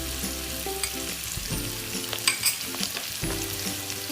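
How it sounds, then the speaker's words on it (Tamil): Grated raw mango stirred in a hot frying pan for mango rice makes a soft, close sizzle with scraping strokes and a few light clinks from the utensil, and nobody speaks. "போட்டு நல்லா கிளறி விடுங்க. இந்த மாங்காய் துருவினது போட்டுருங்க."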